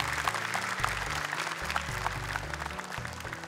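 An audience applauds the mentors in a studio setting, a dense, steady patter of clapping heard at a moderate level over background music.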